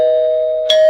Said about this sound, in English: someone rang the doorbell again